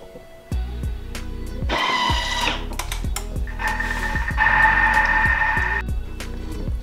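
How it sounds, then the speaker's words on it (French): A blender whirs while mixing a vegetable velouté soup with coconut milk, a steady motor drone with rhythmic clicking pulses and two louder high-pitched surges as it runs continuously for several seconds. "Là c'est parti, je vais mixer."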